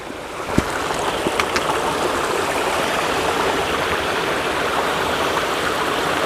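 Steady broadband rush of a clear river stream on the Appalachian Trail, continuous and fairly close, with a couple of brief knocks near the start.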